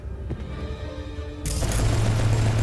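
Gunfire in a video game during a cyberpsycho attack, a loud burst of shots and booms breaking in suddenly partway through and continuing as a dense, sustained barrage over a low rumble.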